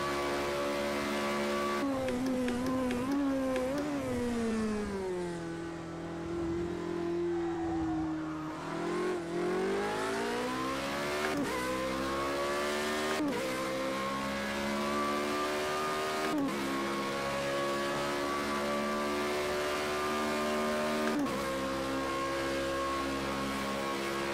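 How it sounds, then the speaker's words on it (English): Race car engine in a racing video game, loud and continuous, revving up and down through gear shifts with a brief dip in pitch before climbing again, running for the whole stretch with no talk. "Love the sound of this car."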